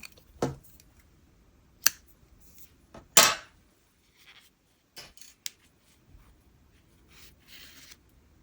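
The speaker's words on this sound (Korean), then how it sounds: "바느질 해야 되니까 길게 남겨서 잘라주세요." Scissors snipping crochet yarn: a handful of short, sharp, isolated cuts and light rubbing clicks spread across quiet moments, close up, with no talking.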